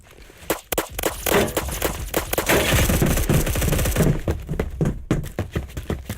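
A Saiga-12 shotgun fires in rapid repeated blasts in a Roblox-style shooting game, a loud dense burst of shots lasting several seconds, with scattered single reports and clicks before and after.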